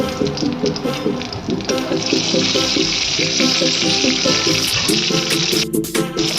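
Cumin seeds and green chillies sizzling in hot oil, a steady close crackle with busy clicking over a constant hiss, with no pauses.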